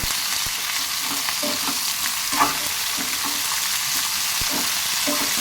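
Tomatoes cooking down in hot oil for a peanut chutney, a constant close sizzle with occasional sharp stirring scrapes and taps against the pan.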